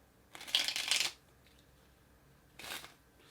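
Two quick riffle shuffles of a deck of cards, a longer burst of fluttering snaps followed after a pause by a shorter one, close up.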